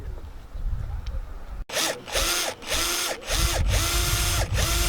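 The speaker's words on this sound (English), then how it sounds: "So I'm about to drill out the rest" A power drill boring out brake light indents, starting abruptly after a quiet background and running loud and close in pulsing bursts with brief pauses.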